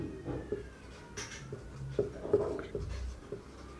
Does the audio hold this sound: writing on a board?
yes